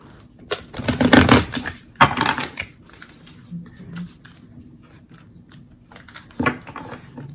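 Bursts of papery riffling and soft slaps as a deck of tarot cards is shuffled close by, in several separate rounds with quiet pauses between.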